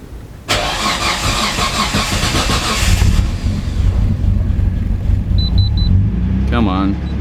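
A car engine cranks and catches, settling into a steady idle rumble; a few beeps and a short voice are heard near the end.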